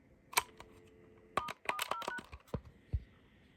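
A series of AT&T 213 Trimline telephone keypad tones, short electronic beeps pressed at an irregular pace, with soft clicks between them.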